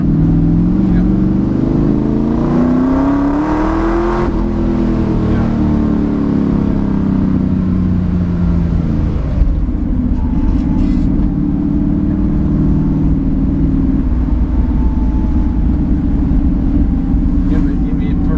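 A stock 1965 Ford Mustang GT350 with a side exhaust pipe revs while held in second gear around a turn, its engine note sweeping up and falling back in loud surges, with voices talking over it.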